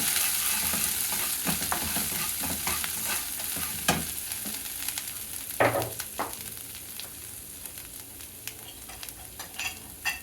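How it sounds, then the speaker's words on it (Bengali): Spice paste seasoned with salt and coriander powder frying in a pan for a prawn and yogurt dish, a soft sizzle under repeated scraping strokes of a spatula stirring close by. "এবার মশলাটাকে আর একটু কষে নেব।"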